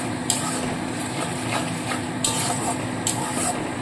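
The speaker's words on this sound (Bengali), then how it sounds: "আদা রসুনের পেস্টটা দিয়ে খুব ভালো করে কষাতে হবে যতক্ষণ না কাঁচা গন্ধটা দূর হয়" Ginger garlic paste fries with onions in a pan under a low, constant sizzle, with a few sharp scraping strokes of stirring near the microphone.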